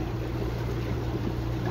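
An EPropulsion Navy 3 electric outboard motor pushes a small boat at around 2000 watts and 6 knots, producing a steady low hum with water rush and wind noise, continuous and close throughout.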